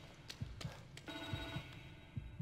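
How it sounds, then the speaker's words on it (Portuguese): A telephone rings inside The Evil Within 2, a steady electronic bell tone over a quiet background with scattered thumps and soft game ambience, no one speaking. "Tá, um telefone."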